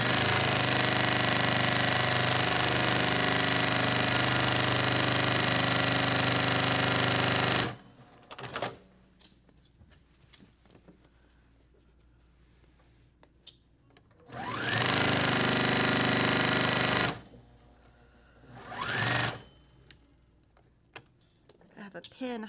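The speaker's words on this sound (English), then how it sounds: "Okay, so I'm gonna do these last two seams real quick." A sewing machine stitching seams while piecing scrap fabric for a quilt: a loud, close, steady whirring run of stitching lasting several seconds, stopping, then resuming in two shorter bursts, with quiet handling sounds and brief talk in the gaps.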